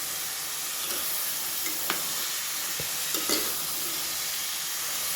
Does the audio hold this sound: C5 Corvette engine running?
no